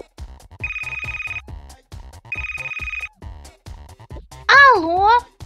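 Electronic melody from a toy telephone, set off by pressing a button, plays twice in short bursts between children's voices. A child's high squeal follows.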